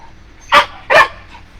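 A very vocal show dog defending its house gives two loud, close barks in quick succession, each sharp and full, with quiet room tone between and no talking.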